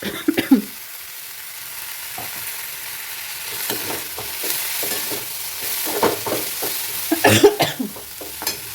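Washed ponnaganti greens cooking with salt in a pan, giving a steady low sizzle with intermittent stirring scrapes and clatters, louder bursts near the start and toward the end, no voices.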